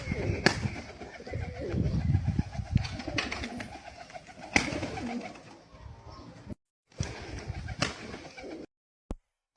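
A pigeon coos in repeated low, throaty phrases close by, with rustling and a few sharp clicks mixed in, before the sound cuts out in short gaps near the end.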